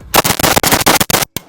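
Rapid burst of gunfire from a Zastava M90 5.56 AK rifle fitted with a muzzle brake, roughly eight sharp, loud, close shots in quick succession, then one last shot after a brief pause.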